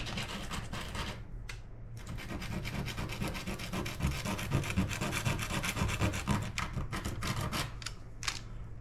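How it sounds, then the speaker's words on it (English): Coarse 150 grit sandpaper rubbing along the edges of a plastic fishing lure, a steady close scratchy rasp of back-and-forth strokes with a couple of brief pauses. "I had some sandpaper handy and I'm just sanding this down a little bit so I don't have any rough edges"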